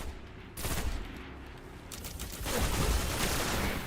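Charge weapon firing in an online PS3 game, dense bursts of rapid gunfire and blasts over continuous game noise, loud and close, intensifying in the second half.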